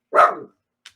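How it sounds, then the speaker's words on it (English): A pet dog named Ray gives a single loud, close bark that trails off, followed by a faint short yip a moment later, with no talking. "Ray, can you stop barking?"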